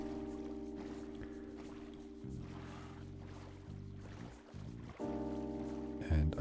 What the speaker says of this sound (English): And I hope you can hear the rowing sounds and that it relaxes you a little bit more.